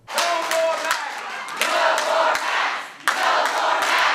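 Crowd of anti-mask protesters at a school board meeting over a school mask mandate in Louisiana, shouting and chanting loudly in sustained bursts, near and forceful, with brief dips between outbursts.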